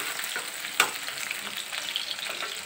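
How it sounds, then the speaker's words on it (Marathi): Green chillies frying in a pan over a low flame: a continuous crackling sizzle with one sharp stirring clack early on, close and unbroken throughout. "हिरवी मिरची थोडीशी परतून एक मिनिट हिरवी मिरची परतू द्यायची बारीक गॅसवर"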